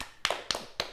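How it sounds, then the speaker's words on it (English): Three quick, sharp hand claps ring out close by in a quiet room, spaced evenly, with no talking over them. "A round of applause."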